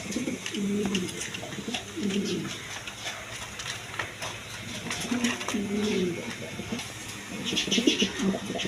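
Bashiraj Kokka pigeons coo repeatedly in low, rolling phrases at close range, mixed with other birds' coos and faint chirps in a busy loft.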